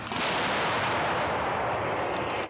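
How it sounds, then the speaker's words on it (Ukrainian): A single massive blast from a self-propelled artillery gun with a long rolling roar that fills the whole moment, loud and close. "Постріл!"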